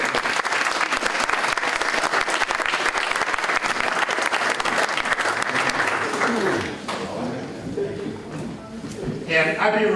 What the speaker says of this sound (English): let's give a round of applause to the Honorable Dylan Fernandez